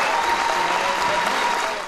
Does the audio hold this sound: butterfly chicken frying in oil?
no